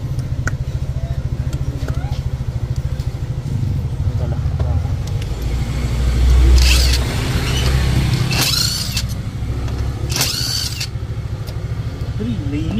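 A Honda Click 125 motorcycle with a stock injector idles steadily with a low engine hum, close by and running hot, while people talk over it and occasional clanks and bursts of noise cut in.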